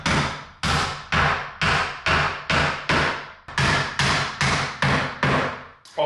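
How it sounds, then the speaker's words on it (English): Ring shank drywall nails driven by hammer into a drywall corner during a farmhouse remodel: about fourteen sharp, evenly spaced loud blows with no talking. "So we're just going to use some ring shank drywall nails."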